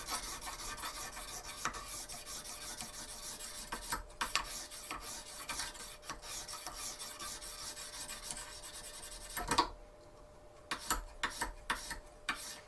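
A knife is sharpened on a fine Lansky sharpening stone in repeated rasping back-and-forth strokes, close and quiet, with brief pauses and a clear break near the end as the stroke direction changes.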